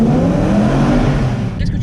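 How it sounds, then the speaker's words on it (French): A BMW M3 E92 fitted with a Remus exhaust revs hard and loud near the limiter, a dense roaring engine note that holds steady before easing off at the end, with talk faintly mixed in. "quand tu tapes le rupteur c'est incroyable"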